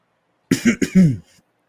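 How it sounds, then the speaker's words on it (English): A man on a sports podcast lets out a short burst of coughs, two or three quick, close and fairly loud hacks, clear against otherwise silent surroundings. "Once again, cough into the camera."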